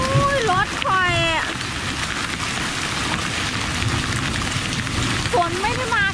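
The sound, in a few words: hail and rain falling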